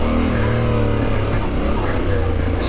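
A Yamaha Ténéré 700 adventure motorcycle idles and chugs slowly over rocks in a steady low gear, its engine a loud, close, even drone with slight pitch wavers as the rider talks over it.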